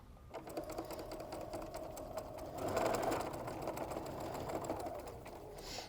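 A sewing machine stitches a quarter-inch seam on pinned quilt pieces, a steady close mechanical whir with a rapid needle chatter running throughout, with no talk.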